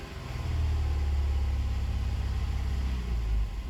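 A Saturn Vue engine with a misfire runs steadily at close range, a low, rumbling drone with a faint uneven pulse and no voices.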